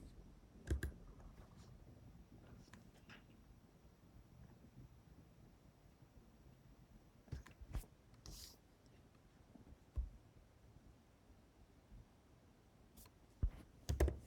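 Sparse, faint clicks and taps of a computer keyboard while typing code, scattered isolated keystrokes over low room hiss with a few louder clacks near the end.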